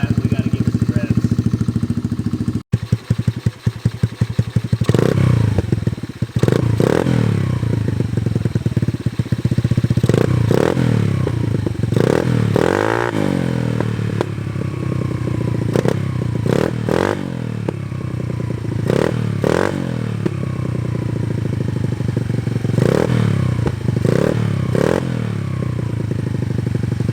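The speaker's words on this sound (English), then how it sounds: "Let the bike get warmed up, and then of course we gotta give it some revs." A 2022 Honda Navi motorcycle with a Yoshimura race exhaust idles and warms up close by, then gets a series of sharp throttle blips and revs rising and falling repeatedly over a steady idle.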